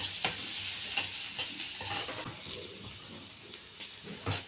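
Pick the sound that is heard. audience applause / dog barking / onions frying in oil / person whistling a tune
onions frying in oil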